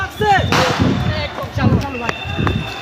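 Gunfire during a police raid on the Dhaka University campus amid quota-reform protests: several sharp, loud bangs at uneven intervals, mixed with excited talking throughout.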